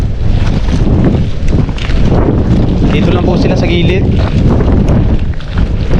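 Strong wind buffets the microphone outdoors at an old fishpond, a loud continuous roaring rumble with someone talking over it.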